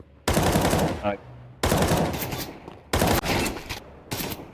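Gunfire in Counter-Strike during a competitive match, several loud close bursts of rapid automatic shots separated by short pauses, with speech heard faintly between bursts.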